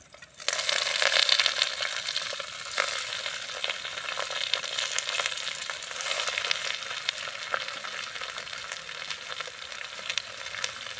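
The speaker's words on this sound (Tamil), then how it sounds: "பச்சை மிளகா ரெண்டு போட்டுடலாம் ஆரஞ்சு போட்டுடலாம் இப்போ கீரை போட்டுடலாம்" Green chillies and wild spinach fry in a pan, a loud, steady crackling sizzle that starts abruptly and keeps going, with occasional sharper pops and stirring sounds close by.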